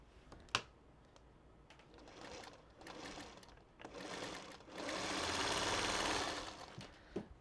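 A home sewing machine stitches half-square triangle quilt pieces in a few short whirring bursts, then one longer steady run, with a sharp click near the start. The sound is close and quiet.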